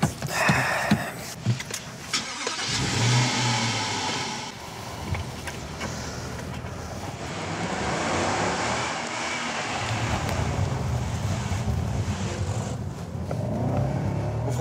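A Jaguar XF starting up and accelerating on a race circuit, its engine note rising and swelling over a sustained roar with rumbling road noise, heard from inside the car without talk.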